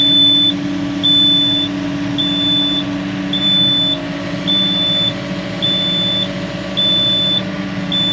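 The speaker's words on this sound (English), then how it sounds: "That beeping is the unlock." A Yanmar ViO55 mini excavator sounds a high, regular beep on unlock, seven evenly spaced tones of about half a second each over the steady rumble of the idling diesel engine, close by.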